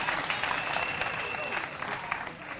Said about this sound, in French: Il faut l'applaudir très fort.